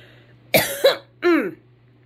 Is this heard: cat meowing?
no